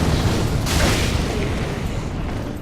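Fireballs cast by fire clerics in the video game Dark Souls 3 burst with a loud, booming whoosh, one heavy blast swelling and then rumbling away.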